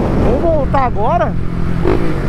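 A Honda Fan 160 motorcycle with a 4mm engine modification running, its low steady engine drone continuing under a man's close, animated talking.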